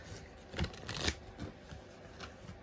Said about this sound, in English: I'm going to have to shuffle this a little bit more